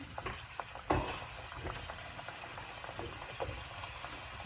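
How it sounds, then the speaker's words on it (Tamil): Rava chips hit hot oil on high heat and fry with a steady, fine crackling sizzle, with a few sharper pops near the start. "ஸோ இப்போ இதை நம்ம எடுத்து டைரெக்டாக எண்ணெயில் போட போகிறோம். ஹை ஹீட்டில் இருக்குது."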